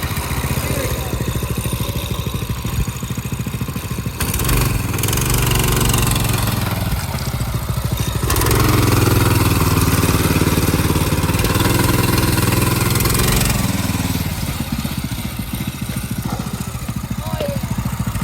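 A homemade go-kart's small engine runs on asphalt, a steady buzzing drone that rises and falls in pitch as it revs, loud and close, with people talking over it at times.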